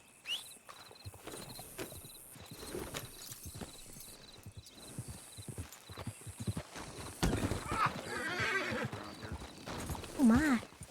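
Horses in the Red Dead roleplay video game neigh and whinny while hooves clop unevenly, mixed with game sounds and growing louder toward the end, with people talking throughout.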